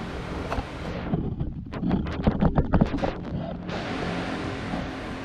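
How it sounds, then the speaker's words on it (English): An electric fan runs in a hot garage workshop during a turbo truck engine build, giving a steady, fairly loud whooshing rush of air, with some irregular knocking and handling noises from the work partway through. "Sorry about the fan noise"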